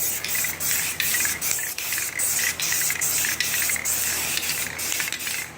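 Rust-Oleum NeverWet coating sprayed onto a muddy ATV's underside, heard as close bursts of hissing aerosol spray in a regular rhythm with brief gaps between passes.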